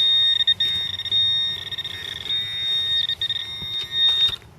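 A metal detector sweeping for coins signals a target with a sustained high electronic tone that wavers and briefly breaks, loud and close, with no speech.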